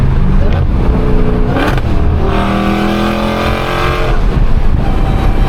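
A Dodge Challenger Hellcat Redeye engine hums steadily throughout, with a rising whine partway as it revs, heard from inside the car.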